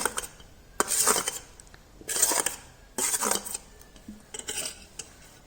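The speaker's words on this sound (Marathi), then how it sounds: "तर हे सर्व अशा भाज्या ह्याच्यामध्ये टाकून घ्यायच्या" Fried vegetables tipped into a pan with a metal utensil, four bursts of clattering scraping and clinking against the pan, close and fairly loud with short pauses between.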